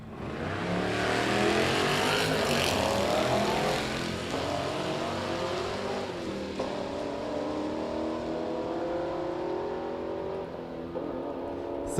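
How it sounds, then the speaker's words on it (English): 1960s-era Camaro drag racing down the strip at Darlington during Drag Week, a loud roaring engine revving hard through gear shifts, the pitch climbing and dropping as it pulls away into the distance. "Sarah's shifting gears in the Camaro"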